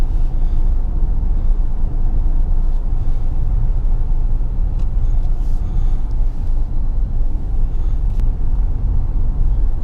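Steady low rumble and road noise fill the cabin of a 2017 Ford Explorer Sport, a 365 hp twin turbo SUV, while driving; the level stays constant throughout with no talk.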